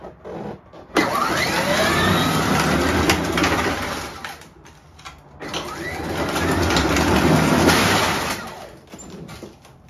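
Power Wheels ride-on toy running on a 20-volt DeWalt battery with a 160-pound adult aboard, its electric motor whirring and grinding in two sustained bursts with a short pause between them.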